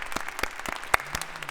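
A church congregation gives scattered, fairly faint claps, a handful of distinct hand claps heard at some distance in a short burst.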